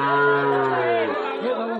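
A bull at the Ambari cattle market gives a single loud, drawn-out moo close by, falling in pitch toward the end, with faint crowd chatter behind it.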